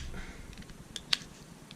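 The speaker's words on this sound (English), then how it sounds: "And next would be the scissors. If I can get them out." Scissors being pried out of a Victorinox Evolution S557 Swiss Army knife give a couple of small, sharp metallic clicks near the end of a quiet stretch with no talking.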